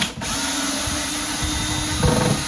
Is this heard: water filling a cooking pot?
no